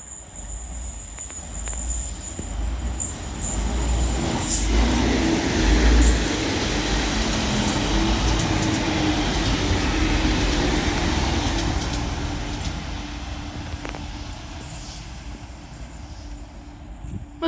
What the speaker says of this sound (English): This double Transpennine Express Class 185 passed through Stalybridge